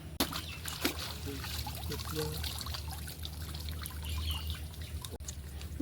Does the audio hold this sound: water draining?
yes